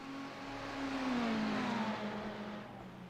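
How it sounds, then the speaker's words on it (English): Two Ferrari GT3 race cars battling on a circuit, engine note rising as they approach and sweep past, a loud passing roar that swells and then tails off. "Two Ferrari GT3s duking it out here today."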